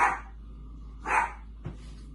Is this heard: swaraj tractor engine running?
no